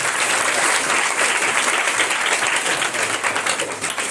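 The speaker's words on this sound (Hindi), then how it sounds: "अगर आई है तो जोर से तालियां बजाएंगे" Enthusiastic applause from a church congregation during a Hindi-language sermon, a dense, steady clapping that fills the room for the whole stretch without pause.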